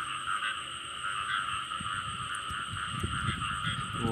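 A dense chorus of frogs croaks steadily in a newly flooded rice field, with continuous overlapping calls and low rustling splashes nearby, no voices.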